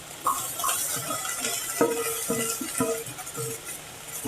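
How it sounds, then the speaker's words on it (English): Onion cooks in the center of a pan beside nearly done okra, a soft sizzle under several distinct clinks and scrapes of a utensil stirring against the pan, quiet and close. "And in the center of the pan, we're going to cook the onions"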